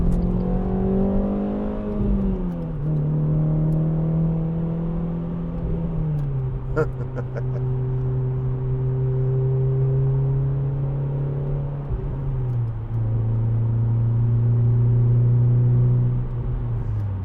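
A 2010 Renault Clio 2.0 VVT Renaultsport three-door's engine held at steady revs, then given gas: a smooth, droning engine note rises and settles in several steps, loud and close, with a brief clatter midway.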